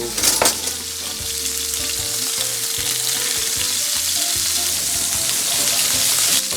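Flank steak sears over a live fire with a steady, loud, close hiss and sizzle that goes on without a break. There are a few brief knocks near the start and no voices.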